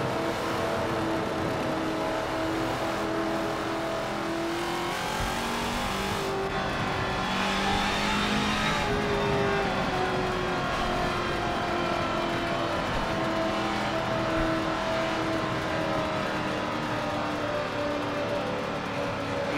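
NASCAR trucks at the race start at Daytona in a sim racing game, a thick, steady drone of many engines revving together, with rising and falling engine tones layered over constant loud road noise.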